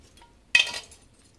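A cut piece of onion drops into a soup pot with a single sharp clink and a short rattle, followed by quiet.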